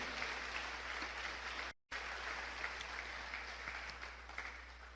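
Church congregation applauding during a sermon, an even wash of clapping with a brief dropout partway through, then continuing at a moderate, slightly distant level.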